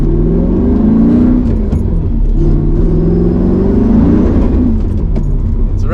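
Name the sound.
Mercedes C55 AMG engine revving at idle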